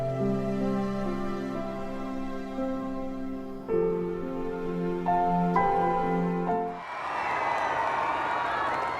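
Royal wedding crowd outside the Abbey erupts into loud cheering and whooping, following brass fanfare-like tones; dense, sustained roar of many voices near and far.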